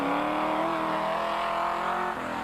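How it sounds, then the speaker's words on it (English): A Land Rover off-road rally car, entered in the Sugarbelt 400 of 1998, drives through thick dust on a dirt road; its engine drones loud and steady, with a slight drop in pitch near the end. "Driving through the thick dust into the sun was slowing down the Penzor Land Rover of Cliff Barker and Heinrich Latergan"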